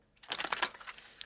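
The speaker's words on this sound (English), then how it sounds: "I'm going to shuffle this 3 times." Oracle cards being shuffled by hand: a brief, close burst of soft papery riffling and crinkling lasting about a second, quiet and alone.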